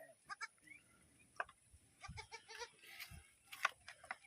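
Goats bleat in short scattered calls, some close and others farther off, amid faint rustling and background farm sounds.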